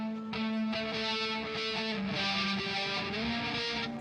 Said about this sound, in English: now you could hear all the flanger and the reverb and the stuff going on in the background